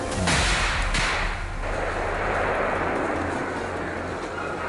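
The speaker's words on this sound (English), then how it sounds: "a gunshot rang out, taking down the boar" A single sharp gunshot fired at a large wild boar in dense trees on Arizona farmland, one loud crack with a booming tail and rumble lingering afterward.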